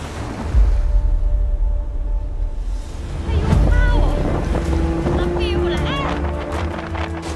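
Strong wind and heavy waves pound a ship crossing the rough waters of the Drake Passage south of Argentina, a loud continuous roar of gusts and surging water with buffeting low rumble throughout, and brief voices partway through.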